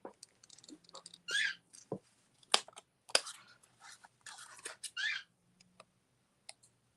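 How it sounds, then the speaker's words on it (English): Scattered snips and clicks of scissors cutting paper scraps, irregular and close, with soft rustling between the cuts. "I'm going to grab a pair of scissors."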